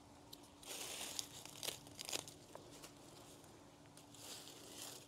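Crisp dry hosta leaves are cut during fall garden cleanup, giving faint, close crinkling and crunching snips in a few irregular bursts, with no talk.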